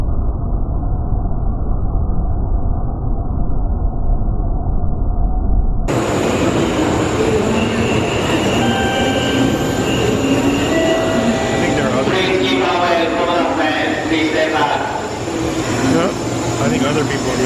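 A bullet train running on rails, its steady rumble loud and close throughout, heard from aboard the carriage with broadband interior noise and faint high tones, while people talk underneath.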